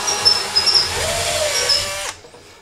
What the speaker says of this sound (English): I just uh, took my drill and went through the holes again like this.